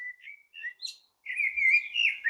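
Small birds chirp in a raspberry garden, a few short high tweets followed by a longer, louder run of whistled calls, close and clear with no talking.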